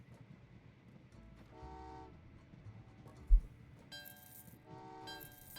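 Train horn toots over the low rumble of a rolling train in the railway game Train Valley 2, two short tonal blasts rising out of a steady mechanical bed, moderately loud with no talking.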